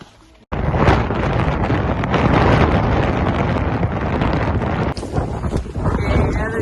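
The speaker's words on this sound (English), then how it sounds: "have a demo to what the wind's gonna do when it hits us" Strong Patagonian wind blowing snow, a loud, steady roaring gust buffeting the microphone after a brief quiet start, continuing with slight surges throughout.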